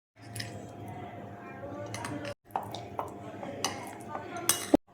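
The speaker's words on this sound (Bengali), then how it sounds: "এবার দেখো সব একসাথে আমি মিক্সড করে নিচ্ছি।" Yogurt marinade being mixed in a bowl, with a spoon clinking and scraping against the sides in an uneven rhythm and soft wet squishing close by.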